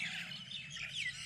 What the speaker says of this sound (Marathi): त्यांना तांदूळ टाकले की हे पक्षी आले आता पहा